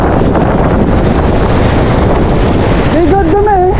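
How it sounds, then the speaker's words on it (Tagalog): Strong northeast monsoon wind at a fishing spot roars and buffets the microphone in a constant low rumble, with a voice briefly speaking near the end. "Medyo malakas ang hangin."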